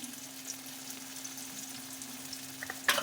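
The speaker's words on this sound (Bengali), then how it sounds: "একটু নেড়ে নিই, মশলাটা কষা" Masala is stirred and fried in ghee in a pan for a kaanchkola kofta curry, giving a soft steady sizzle with light scraping of the spoon and a sharper clatter right at the end.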